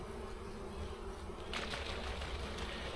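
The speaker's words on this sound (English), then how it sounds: "we're gonna shake up the bees without the queen" Honey bees shaken into a swarm box produce a dense, steady buzzing hum, close and faint, with a brief rustling burst midway as the frames are jostled; no one speaks.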